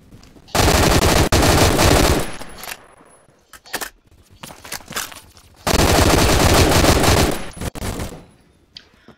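Gunfire in the video game Phantom Forces: two long, loud bursts of automatic fire, each about two seconds, separated by scattered single shots and clatter.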